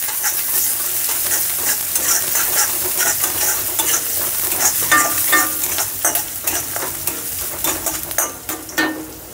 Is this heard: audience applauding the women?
no